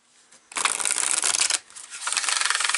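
Tarot cards being shuffled and cut, two bursts of dense riffling and rubbing close by, the first lasting about a second and the second beginning after a brief pause.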